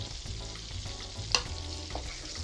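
Ginger garlic paste fries in hot oil for paneer butter masala, a soft close sizzle with one sharp crackle pop midway, no voices.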